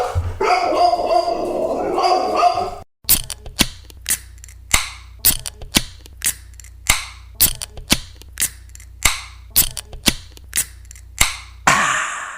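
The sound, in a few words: three-legged dog barking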